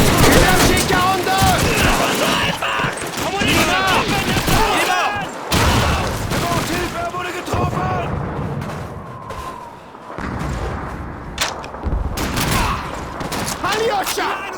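MG 42 machine gun fire crackles in Call of Duty 2 battle, rapid bursts mixing with scattered gunshots and booms, loud and near, while soldiers shout over the fighting.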